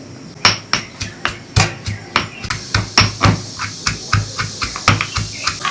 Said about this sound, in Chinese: 把蒜切成蒜末